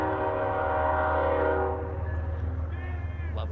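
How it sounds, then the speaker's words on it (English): A freight or passenger train sounds its horn beyond left field at a baseball game, a long, loud, sustained blast that fades out, leaving a steady low rail rumble with faint squeals. "Lovely train beyond left field, letting its presence be known."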